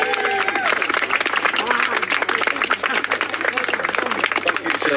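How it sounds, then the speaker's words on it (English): Crowd applause and cheering at an outdoor rally in Rochdale, dense clapping running under a loud voice that keeps speaking over it the whole time. "Give her a round of applause."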